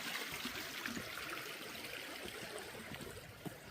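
Creek water in Warrandyte flows steadily with a soft, continuous trickling and babbling, faint and close, with no voices.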